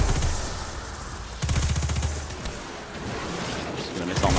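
Rapid automatic fire from the Recluse submachine gun in the game Destiny 2, dense bursts of close shots in quick succession that pause and resume, loud against game ambience.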